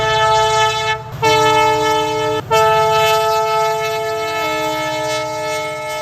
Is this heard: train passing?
yes